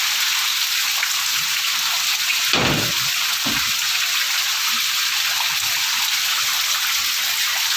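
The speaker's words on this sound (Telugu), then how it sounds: "చూసారు కదా ఎంత పెద్ద గాలివాన అయితే వస్తుందో." Heavy rain with strong wind during a storm, water rushing forcefully; a steady dense broadband roar fills the whole stretch, with a couple of brief louder gusts or splashes near the middle.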